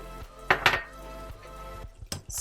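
A spoon clinks and scrapes against a bowl while stirring cinnamon into a no-bake apple crumble mixture sweetened with Grade A maple syrup, a few sharp clinks over soft scraping, close and moderately loud.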